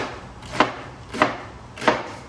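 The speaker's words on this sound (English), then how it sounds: "So just in case you wanna know how we cut things" Knife chopping cabbage on a board for smothered cabbage, three evenly spaced sharp chops about two-thirds of a second apart, close and clear with no talking.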